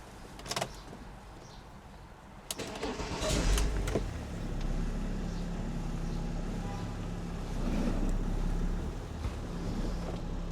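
A BMW X3 3.0d with the M57 diesel, 226,000 km and in good condition, starts with a sharp crank burst after a quiet moment, then settles into a steady, low idling rumble.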